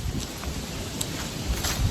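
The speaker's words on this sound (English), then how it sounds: "Of course you can hear it's super windy." Strong wind blowing outdoors on a sunny day, a steady loud rush buffeting the microphone with gusty low rumbles throughout and no one talking.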